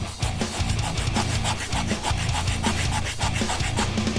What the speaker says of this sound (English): So now the glue is dry enough to where you can start sanding it down